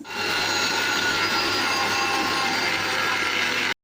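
A mixer grinder powders masala spices for a prawn fry, a loud steady motor whine with a harsh grinding roar that runs unbroken for nearly four seconds, then cuts off abruptly.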